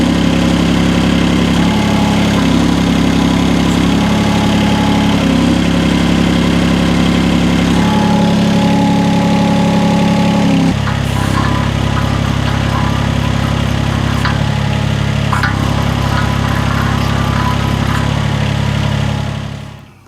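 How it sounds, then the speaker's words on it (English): A UME12 mini excavator's engine runs steadily with an auger attachment fitted, a loud, continuous mid-to-low drone with small shifts in pitch and load that fades away near the end. "we've got the engine running now"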